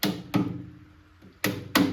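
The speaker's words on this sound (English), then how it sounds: "I'm just gonna use a hammer and a chisel" A hammer and chisel strike a stone countertop slab: two pairs of sharp metallic hits, each ringing briefly before fading, with a quiet pause between the pairs; close by and fairly loud.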